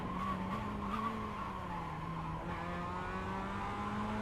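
Race car in the iRacing sim sliding off the track: engine drone with a sustained tire-skid squeal that shifts in pitch, fairly faint and steady, no talking.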